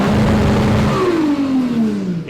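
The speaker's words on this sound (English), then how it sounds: "going to end up blowing that engine up." A car engine revs hard up close, a loud rising whine that peaks and then falls away as the revs drop, heard alone without talk.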